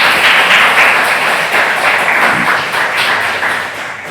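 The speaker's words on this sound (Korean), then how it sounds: "우리 앞으로 소중한 직분 잘 감당하시라고 박수로 한번 격려해 주시기 바랍니다" A church congregation at a Sunday worship service applauds to encourage a newly elected men's fellowship president, steady loud clapping from many hands that fades slightly toward the end, with no talking.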